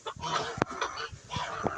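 Hens that have just laid an egg squabble nearby. Their short, honking clucks and squawks come in uneven bursts, some loud and some softer.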